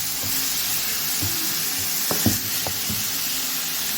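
Chopped onion sizzles in a pan of butter and a little oil, a steady close frying hiss with a few soft clinks and stirring sounds partway through.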